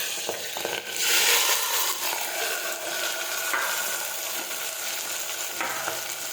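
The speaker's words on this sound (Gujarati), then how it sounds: "હવે આપણે આ સમારેલા બટેટા અને ટમેટા નાખી દઈશું" Chopped potatoes and tomatoes fry in oil with mustard seeds and cumin, giving a steady broadband sizzle close up, broken by a few light stirring scrapes, with no voices.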